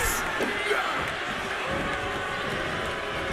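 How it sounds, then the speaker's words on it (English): Arena crowd noise from the WWE 2K25 wrestling video game, a steady loud roar of cheering that runs unbroken through the whole stretch behind commentary-style sound. "Listen to this crowd."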